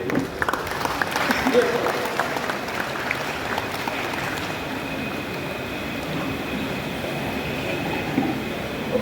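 A seminar audience applauds, a broad continuous roar of clapping throughout, dense and somewhat distant, with voices mixed in.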